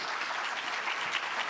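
An audience at a tax procedures seminar applauds the speakers, a brief, steady wash of clapping heard from a moderate distance, with no talking over it.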